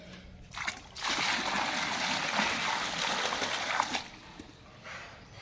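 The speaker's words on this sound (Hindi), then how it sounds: "इसको अच्छी तरह से पानी डाल के ना साफ़ करके फिर लगातार पानी डालते हैं" Water splashes and streams steadily as it is poured over a rooftop bird water spot to rinse it clean, a continuous nearby splatter that starts abruptly and then tapers off toward the end.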